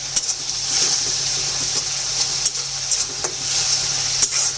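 Green papaya and egg sautéing in a hot pan, a steady sizzle broken by scraping stirs and spatula clicks, loud and close with no talking.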